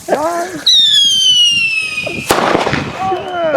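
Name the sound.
Dutch fireworks firecrackers exploding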